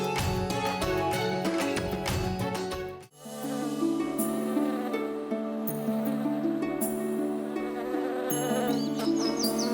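A loud, steady bee buzzing from a Zee TV drama serial, droning throughout over a tonal musical backdrop with no speech.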